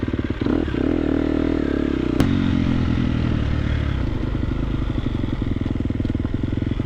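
Triumph TF250X motocross bike accelerating hard at half throttle as the front wheel lifts, its engine loud and close with a steady rasping drone and a sharp clatter partway through.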